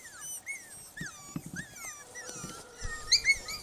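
Norwegian Elkhound pups about four weeks old whimper and yip in high, wavering cries. Soft low scuffling and growls sit beneath, close and intermittent, with no speech.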